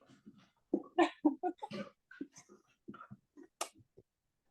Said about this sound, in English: Oh, my dogs are very excited.